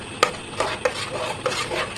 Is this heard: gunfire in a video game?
no